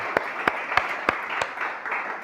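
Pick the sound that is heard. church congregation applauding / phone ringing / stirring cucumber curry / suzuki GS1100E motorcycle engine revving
church congregation applauding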